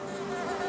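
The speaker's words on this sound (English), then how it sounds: "Wow, this is so many bees." Bees swarm in Hollow Knight, a short, close, steady buzz with a clear droning pitch and no speech.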